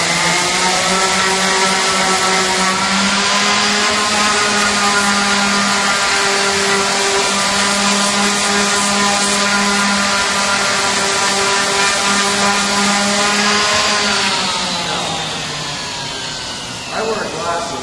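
A power sander grinds across a melamine panel with a loud, steady whine for most of the stretch before winding down near the end.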